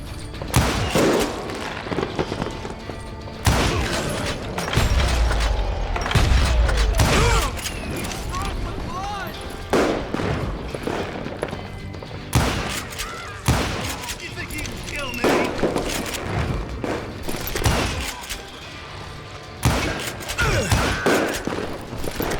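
Gunshots crack through a saloon gunfight in Call of Juarez: Gunslinger, a dense, loud run of rapid fire and booming blasts with mechanical clicks, continuing steadily throughout.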